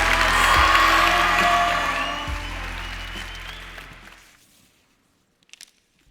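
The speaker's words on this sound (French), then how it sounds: "Un tonnerre d'applaudissements pour Camille Mognetti" Applause from the audience at a French national eloquence contest final, loud and dense at first, then thinning and fading out over about four seconds, followed by near silence with a few faint knocks.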